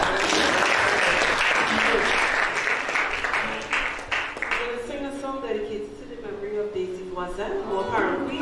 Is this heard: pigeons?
no